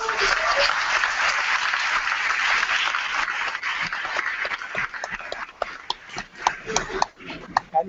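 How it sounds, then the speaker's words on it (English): Audience applause at a science center event with a NASA chief scientist and astronaut, a full burst of clapping that thins into scattered individual claps near the end, with a voice speaking over it. "So please, let's give them a round of applause."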